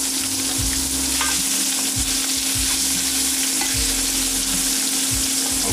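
Peeled, tail-off shrimp for shrimp scampi sizzle hard and steadily in a hot pan, a loud continuous fry with a low steady hum and occasional dull knocks underneath, no voices.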